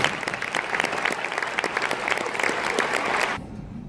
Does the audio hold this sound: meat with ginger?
no